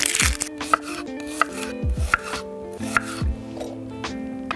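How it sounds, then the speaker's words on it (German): Two peeled shallots are chopped finely with a knife on a board for a sauce, a quick series of crisp, close knocks in an uneven rhythm over a faint background hum. "Für die Soße schneide ich mir jetzt erstmal 2 Schalotten ganz klein."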